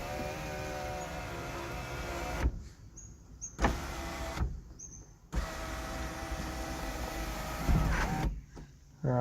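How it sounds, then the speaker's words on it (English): The electric sunroof motor of a Lexus IS300 whirs steadily, pausing twice and starting again, a close mechanical hum with short clicks where the panel stops; no one speaks. "And the sunroof still works."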